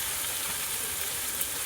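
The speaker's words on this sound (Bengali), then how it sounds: "এবারে ভালো করে পেঁয়াজ আদা রসুন একসঙ্গে কষিয়ে নেব।" Onion, ginger and garlic frying together in a pan for a raw banana kofta curry, giving a steady broadband sizzle without break, moderately loud and close, with no talking.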